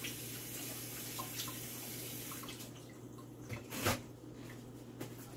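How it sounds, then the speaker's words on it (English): A kitchen tap runs while hands are washed during muffin baking, a soft continuous stream of water with small splashes and a louder burst of splashing partway through. "Let me wash my hands real quick."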